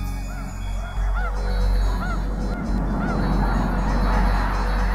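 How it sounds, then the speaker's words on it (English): A flock of migrating geese honks continuously, overlapping calls repeating over a steady low rumble of wind or wingbeats, with no voices. "Just like birds traveling in flock"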